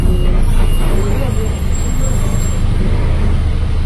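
A Trans Pakuan city bus rumbles through Bogor traffic with low engine drone and road noise close by, while voices talk over it.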